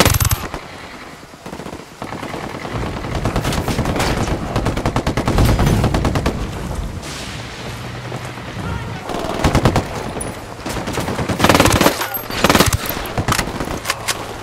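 Rapid bursts of automatic gunfire and scattered single shots ring out during a firefight in the video game Ghost Recon Wildlands, loud and close, with voices talking intermittently between volleys.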